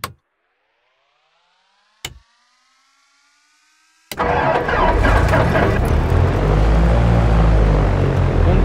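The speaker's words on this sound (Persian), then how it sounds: "موقعی که انجین رو روشن میکنیم." An engine start effect from a video game graphics mod: two sharp clicks spaced a couple of seconds apart, then the engine catches with a loud burst and settles into a heavy, steady rumble that runs to the end.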